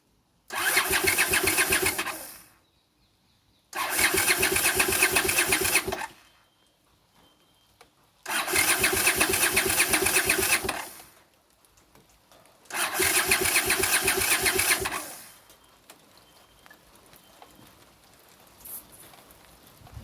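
Honda CX500 motorcycle engine cranking on full choke in four long loud bursts of about two seconds each, separated by short pauses, with no catch; a faint low hum continues after the last attempt.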